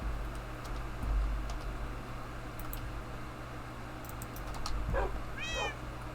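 A Minecraft cat meows near the end, a short rising-falling call, over steady low hum and scattered soft clicks like typing.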